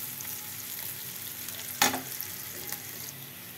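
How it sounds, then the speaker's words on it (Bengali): Shrimp frying with chili and onion in a pan: a steady soft sizzle with one sharp stirring clatter midway and a smaller scrape after, no talking. "আমি একটু চিংড়ি মাছ ভাজি করব মরিচ পেঁয়াজ দিয়ে।"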